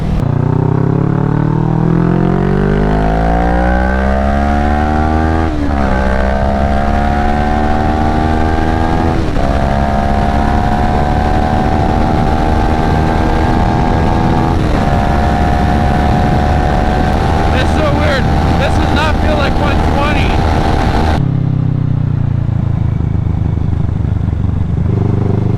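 A dirt bike revving hard while being ridden and ripped around, loud and close, engine pitch climbing through gears in repeated rising sweeps before dropping off near the end, with a voice heard over it.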